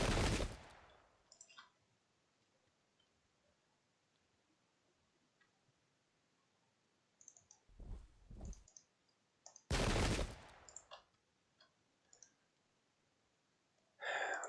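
Musket volleys crackle in an English Civil War battle in Pike and Shot, heard as two or three sharp, separate bursts against near silence, with soft clicks between them.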